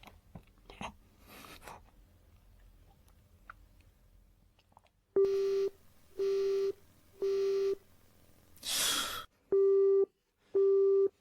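A telephone busy signal on an unanswered call beeps in six evenly spaced loud tones after a stretch of faint rustling and a brief burst of noise, with no voices.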